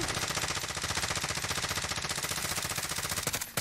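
Rapid, continuous automatic gunfire in Call of Duty: Warzone, loud and sustained with a dense rattling rhythm throughout.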